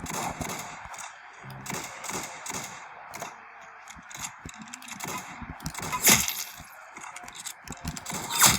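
Rapid bursts of gunfire from a Roblox shooter game crackle in irregular volleys alongside clicking mechanical reload sounds, loud and close throughout.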